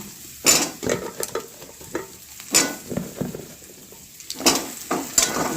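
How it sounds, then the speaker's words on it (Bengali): Vegetables are stirred into a spice paste frying in a pan, giving bursts of sizzling and spoon-scraping in irregular strokes, with quieter gaps between them. "মশলাটা আমার কষানো হয়ে গেছে, এবার আমি সবজিগুলো দিয়ে দেবো।"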